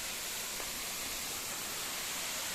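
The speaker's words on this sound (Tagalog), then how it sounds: "Ganda ng falls. Ayan. Wow! Ayan o. Ang taas po ng falls o." Steady broadband roar of a tall waterfall on a forest trail in Tanay, Rizal, heard close and loud, continuous and unbroken with no talk over it.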